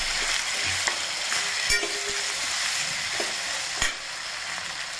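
Turmeric, red chilli powder and garam masala stirred into a sizzling pan for moth bean sabzi, a steady fry hiss with a few clear spoon knocks against the pan.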